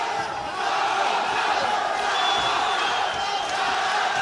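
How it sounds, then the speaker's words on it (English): Crowd shouting and cheering at a Muay Thai fight, a steady dense roar of many voices filling the arena without a break. "The crowd are shouting"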